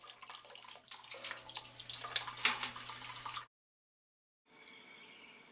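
Homebrew wort draining from a grain bag through a strainer, a steady splashing trickle of liquid that stops abruptly, followed after a brief silence by a hissy, running-water sound.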